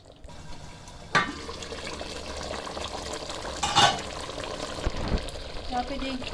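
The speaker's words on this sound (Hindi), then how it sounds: "इसको हाई फ्लेम पे तकरीबन 2 से 3 मिनट तक के लिए मैं हाई फ्लेम पे इसको भूनूंगी" Chicken frying on high flame in a pan for achari chicken, sizzling with a few sharp scraping stirs and clinks over a constant hiss.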